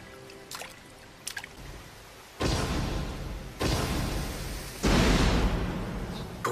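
A waterfall in an animated Naruto scene: a quiet opening with faint clicks gives way to a loud, broad rushing roar that surges in three waves and keeps going steadily to the end.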